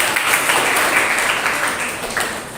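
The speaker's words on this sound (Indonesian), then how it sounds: "Tepuk tangan untuk kita semuanya." A school class claps together during a morning lesson, giving steady, dense applause for the whole couple of seconds.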